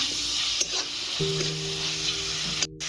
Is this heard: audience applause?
no